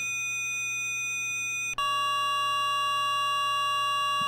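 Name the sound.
Flight of Harmony IMP Module synth low-frequency tone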